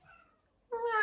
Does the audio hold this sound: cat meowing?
yes